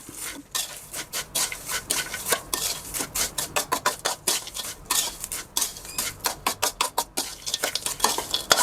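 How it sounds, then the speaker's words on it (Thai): Fried chili paste with pork cracklings is stirred and mixed in a pan in brisk, rhythmic strokes, with repeated scraping and clinking of the utensil over a light sizzle, close and loud. "พริกที่เรา ผัดไว้นะครับ เราก็เอาขึ้นมาข้างบนแล้วก็ ผสมให้เข้ากันเลยครับ"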